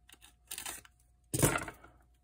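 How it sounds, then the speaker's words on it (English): Two short bursts of tearing, scraping sound as scissors used like a blade slice and rip open cardboard mail packaging up close, with a quiet pause between them. "I might have to use my scissors like a bit of a blade here instead of scissors"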